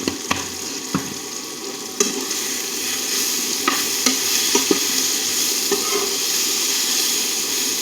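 Brinjal stir-fry sizzling and frying steadily in a pan while a utensil stirs it, giving a loud, continuous hiss broken by occasional scraping knocks and clinks, with no talk.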